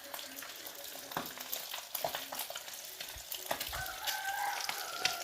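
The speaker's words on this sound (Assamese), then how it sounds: "এয়া মই এতিয়া ধুনীয়াকৈ মাছখিনি ভাজি আছোঁ।" Rohu fish pieces sizzle and crackle as they fry in a pan, with occasional stirring and scraping, while a rooster crows faintly in the background toward the end.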